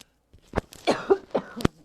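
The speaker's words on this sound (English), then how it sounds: "Pardon me for the coughing." Several short, raspy coughs and a throat clear come in quick succession, close up, after a moment of silence.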